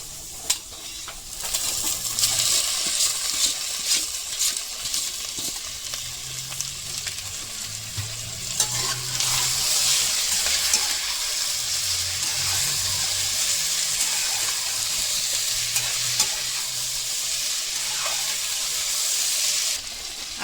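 Taro stolons and potato frying in a pan over medium heat, a steady close sizzle with occasional scraping stirs and faint clinks, continuing for a long stretch with no voices.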